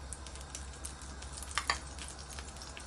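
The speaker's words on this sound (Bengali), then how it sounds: "1 টেবিল স্পুন ভেজিটেবল অয়েল ঢেলে দিলাম।" Vegetable oil poured into a hot kadai gives a soft, steady sizzle and faint crackle, quiet and close, with a couple of brief sharper pops partway through.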